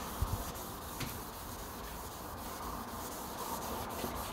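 Steady scratchy rubbing of sandpaper over car clear coat paint, continuous back-and-forth abrasion, close and moderately quiet, no voices.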